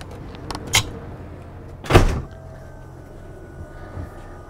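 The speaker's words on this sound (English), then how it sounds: "I'm gonna shut this door." The door of a 2022 Newmar Essex 4551 motorhome is pulled shut with a firm, close thud, preceded by a lighter knock and followed by a quiet interior hum.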